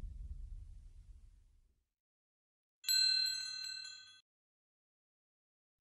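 A single short electronic ring, bright and tonal, sounding for about a second and a half after a low rumble fades, then silence.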